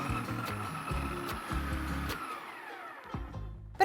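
A food processor works flour and fridge-cold butter into a fine sandy crumb for baci di dama hazelnut biscuits, a loud close motor whir running in repeated pulses, then stopping briefly before starting again.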